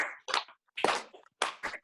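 Bare hands clap a few times to a steady beat, close and quiet, with short gaps of silence between the separate claps.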